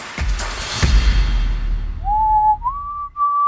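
A few sustained whistled notes of a Christmas tune, each stepping higher, clear and close after some thumps and rustling.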